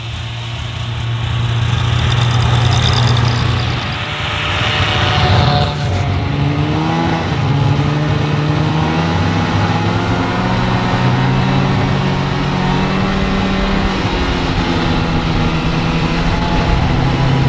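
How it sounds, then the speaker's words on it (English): Snowmobiles riding home from an off-grid cabin, their engines droning loud and steady throughout with a shifting pitch as they travel, no talking. "Gonna get back on the sleds, go for a ride, and get back home."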